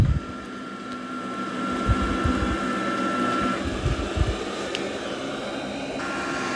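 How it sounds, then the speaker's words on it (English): An iRobot Roomba Essentials robot vacuum runs at medium suction with a steady, fairly quiet whirring drone, a few soft bumps and clicks breaking through as it moves along. "Yeah, it is a relatively quiet vacuum."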